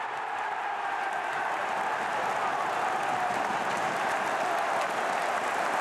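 A football crowd at the CBS Arena in Coventry cheers a headed goal in a holiday Championship match against Plymouth Argyle: a steady, dense roar of many voices that holds at full loudness throughout.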